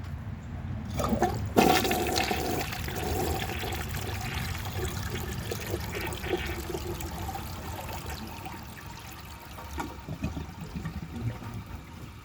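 A 1982 American Standard Plebe toilet flushes close by, starting with a sharp clunk, then a loud rushing swirl of water that slowly fades into trickling refill. No speech.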